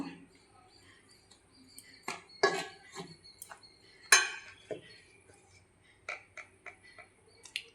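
Dhokla batter being stirred in a bowl with turmeric powder and sugar, a utensil clinking and tapping against the sides in irregular bursts, fairly close and moderately loud, with quiet gaps between strokes.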